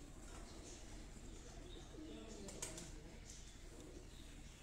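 Teddy pigeons in a breeder's loft coo softly behind a constant wash of background noise and faint voices, the low rolling calls distant and muted.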